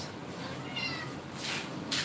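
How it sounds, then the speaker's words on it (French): A cat meows twice indoors, two short moderately loud cries standing out over a steady background hum, with no talk. "Miaou."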